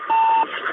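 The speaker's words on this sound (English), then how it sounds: "The familiar beeping of the radio beacon on the Soyuz" A Soyuz capsule's radio beacon gives a single short electronic beep, clear and fairly loud, lasting about a third of a second.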